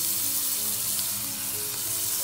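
Green chili paste hits roasted cumin in hot oil for a fasting-day peanut kadhi, raising a dense, loud, continuous sizzle that holds steady from start to finish, close by and with no voices.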